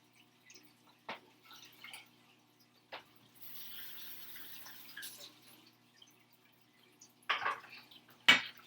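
Water trickles and splashes as it is poured into crepe batter, a soft, close, running stream with a few louder drips and clinks near the start and end.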